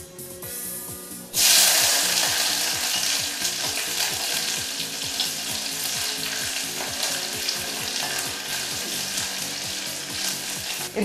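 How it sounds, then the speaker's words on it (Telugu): Mustard seeds hit hot oil and burst into loud, steady sizzling and crackling, the frying continuing close and dense for about ten seconds with a fainter hiss before it begins. "2 స్పూన్స్ నూనె వేసుకుంటున్నాము. తర్వాత వేసుకున్నాక కాస్త ఆవాలు."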